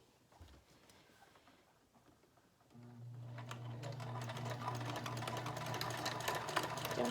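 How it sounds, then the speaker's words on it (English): A sewing machine stitches a homemade fabric mask, starting after a quiet moment and running as a steady, close, rapid whirring rattle until the end. "And we're going to sew."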